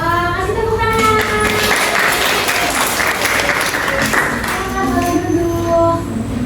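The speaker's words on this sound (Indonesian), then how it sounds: "kasih tepuk tangan" A primary school classroom full of people claps steadily for several seconds, dense and close, with voices and music-like tones faintly underneath.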